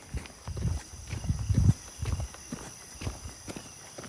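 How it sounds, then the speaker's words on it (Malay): Footsteps at night in a national service camp in Betong: a run of dull, close thuds in uneven groups, with a faint steady hiss underneath. "Aku bunyi tapak kaki."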